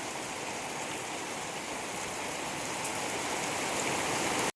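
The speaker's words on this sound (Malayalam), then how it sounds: "പ്രതീക്ഷിക്കാത്ത മഴയാണ്." Heavy monsoon rain pours down in Kerala as a dense, steady wash of hissing drops that stays loud and unbroken until a sudden cutoff at the very end.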